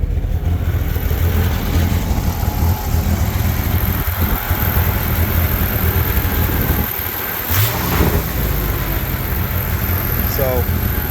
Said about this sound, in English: See if it's gonna stay idling.